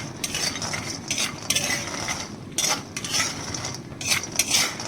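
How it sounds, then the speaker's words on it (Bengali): Bori lentil dumplings frying in a pan, heard as repeated bursts of metal spoon scraping and stirring against the pan over a low, faint sizzle, close by with no talking. "আমি বড়ি ভেজে নিচ্ছি"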